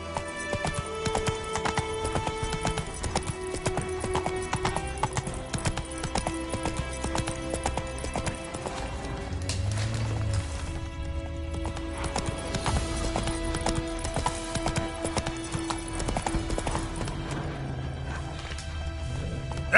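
A horse in The Witcher 3 gallops with continuous rhythmic clip-clop hoofbeats, steady and fairly close, with an occasional whinny and game ambience underneath.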